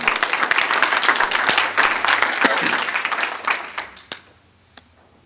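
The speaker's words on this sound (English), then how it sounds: "So let's give a round of applause for all of them" A room of attendees at a Chamber of Commerce breakfast meeting gives a round of applause. It is loud and close at first, then thins out into a few last scattered claps.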